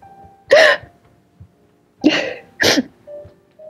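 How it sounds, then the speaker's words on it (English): A small dog with a cold sneezes in sharp, close bursts: one sneeze, then a pause, then two more in quick succession, with quiet room tone between. "He sneezed twice."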